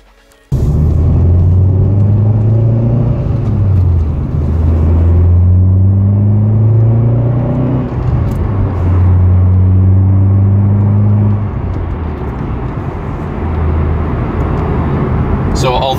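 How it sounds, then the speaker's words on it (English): A Vauxhall Corsa VXR fitted with a short shifter drives on the road, its engine droning loudly and steadily from inside the cabin with rising and falling pitch through gear changes. "I'm going to get out for a little drive next"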